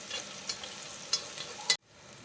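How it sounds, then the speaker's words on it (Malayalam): Broccoli pieces frying together in a pan for a Malayalam-style broccoli roast, a steady soft sizzle with a few sharp scraping stirs, ending abruptly. "എല്ലാ ബ്രൊക്കോളിയും കൂടെ ഒന്നിച്ചിട്ട് ഇതേപോലെ ഒന്ന് വറുത്തെടുത്താൽ മതി കേട്ടോ"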